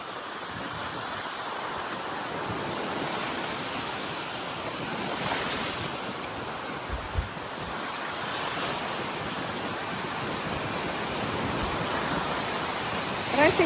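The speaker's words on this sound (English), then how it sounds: "The waves are coming." Ocean waves wash onto a beach at Point Gibbon, a soft, steady surf hiss with gentle swells and wind noise, fairly quiet and distant.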